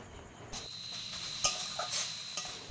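Spices such as cumin powder and Kashmiri chilli powder being stirred into frying banana flower in a pan, a continuous sizzle broken by several clinking spatula scrapes, with no talk.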